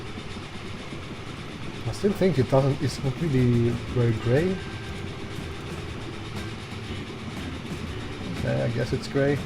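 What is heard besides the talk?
steel freight train running in video game Transport Fever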